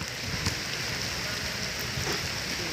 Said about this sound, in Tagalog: Shooting sa gitna ng ulan.